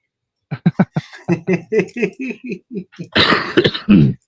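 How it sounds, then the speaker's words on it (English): A rapid run of short, dry coughs repeats in a burst, ending in a couple of harsher, breathy hacks; close and loud. "I'm sorry to keep coughing in you guys' ears"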